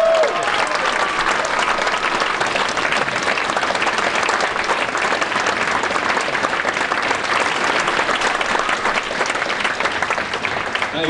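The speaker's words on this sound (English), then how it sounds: "please give a massive round of applause" An audience at a stand-up comedy venue breaks into loud, continuous applause that fills the whole stretch, with dense clapping and no clear pauses.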